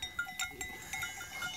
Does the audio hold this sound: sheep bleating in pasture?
yes